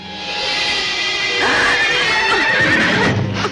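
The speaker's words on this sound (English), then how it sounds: "Vincent Price spooks horses easily" A spooked horse whinnies loudly in a 1965 horror film, The Tomb of Ligeia: a long, shrill, quavering neigh rises over a steady background hiss, then falls away in wavering cries.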